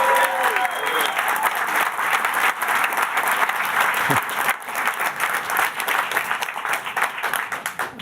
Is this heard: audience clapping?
yes